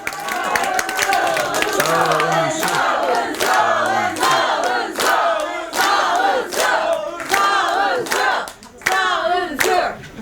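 Supporters at a political party member event applaud a Busan party leader, with crowd clapping mixed with loud shouted cheers and voices rising and falling in waves.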